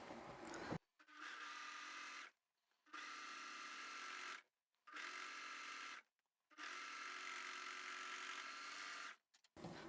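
Sewing machine stitching the side edges of a fabric supermarket shopping tote. Four distinct bursts of close, steady motor whirring, each separated by a short silent pause.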